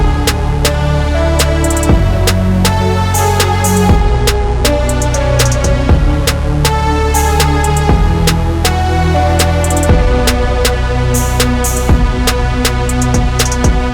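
Dense trap-style beat, with a heavy stomp kick, cracking snare and wide-open hi-hats driving under a sustained synth chord bed, loud and steady throughout.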